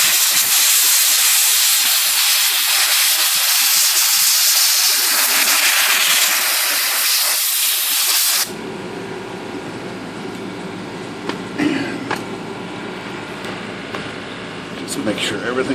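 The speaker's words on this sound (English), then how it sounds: "it's really on the final finishing touches here with the compressed air" Compressed air blasts loudly and continuously while cleaning an Olivetti Lettera 32 typewriter, then cuts off abruptly halfway, leaving quieter room noise with a few small knocks.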